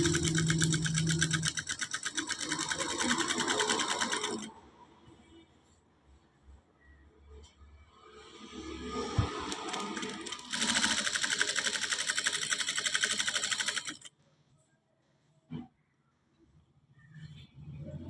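Sewing machine stitching a ladies' top that is being altered to fix a dropped shoulder, with its sleeve shortened to half length. Two long, steady bursts of rapid mechanical stitching are separated by a quieter pause with handling noise, and a brief stitch comes near the end.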